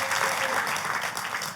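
Congregation applause at a church service, a dense burst of clapping that fills the moment, loud and steady before easing slightly at the end.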